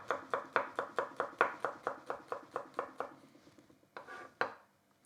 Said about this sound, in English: Leaving the root bit, I cut across, and then I literally just do it as if I'm doing an onion.